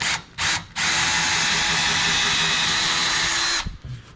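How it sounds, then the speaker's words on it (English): A power drill whirs steadily for about three seconds after a couple of short trigger bursts, loud and close, pre-drilling a hole halfway for a wall-mount bolt, then spins down. "I'm just going to pre-drill halfway through."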